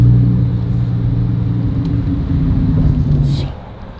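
A Lamborghini driven on city streets near Beverly Hills gives a steady, close low engine rumble and road drone that eases off near the end of the stretch.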